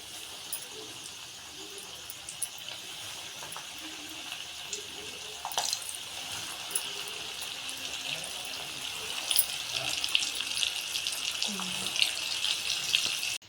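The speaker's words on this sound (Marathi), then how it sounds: "मी इथे तेल ठेवलेलं आहे फ्राय करण्यासाठी बघू शकता तुम्ही आता आपण त्यामध्ये कोळंबी घालूया" Marinated prawns frying in hot oil in a home kitchen, a steady broad sizzle and crackle throughout that grows slightly louder toward the end, with no talk over it.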